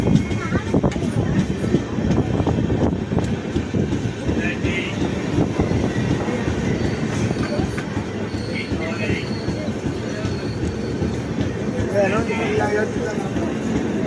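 Pallavan Express passenger train at Ariyalur, a steady loud rumble of rolling carriages with faint wheel squeal and clatter, under a busy crowd and people talking throughout.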